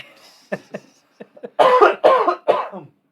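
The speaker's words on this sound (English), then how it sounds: "hit the switch when you're coughing" A few soft throaty sounds lead into three loud, harsh coughs in quick succession, close by.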